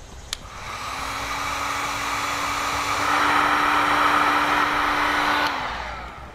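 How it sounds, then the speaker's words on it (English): A heat gun shrinks wire connectors for a tail light wiring kit on a towed vehicle, blowing a steady airy whoosh with a constant whine that swells slightly midway, then cuts off, alone without talk. "Now we'll use a heat gun, which you have available on our website,"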